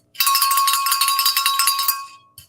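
A bright, sustained ringing of a bell to start a contest, loud and close, fading out after about two seconds with a faint extra tap at the end.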